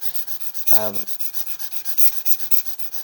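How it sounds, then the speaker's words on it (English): A chisel back is flattened on sandpaper with quick, rhythmic rubbing strokes, close and fairly quiet, with one short tonal scrape partway through. "doing this on sandpaper is a lot faster"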